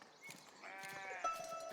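A sheep on a farm in the building game Foundation gives a single wavering bleat, fairly close and clear, over faint ambient background.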